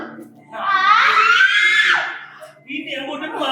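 An actor screams loudly on stage during a small-stage theatre performance, one long sustained shriek followed by a shorter cry.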